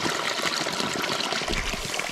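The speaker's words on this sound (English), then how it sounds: "The water down there is flowing." Stream water flows below outdoors in a steady, close, rushing trickle that babbles continuously, with no voices.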